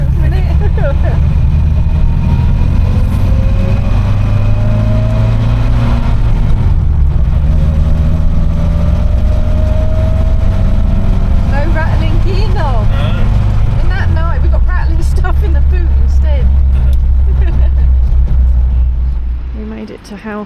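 A Triumph Herald engine drones steadily from inside the moving car, a low continuous hum that shifts pitch around two-thirds of the way through, with voices talking over it throughout.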